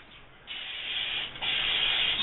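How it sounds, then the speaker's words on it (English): Cooking spray hisses from a can into a container for a protein cake, in two steady bursts with a short pause between them, close and fairly loud. "Spray up our container here."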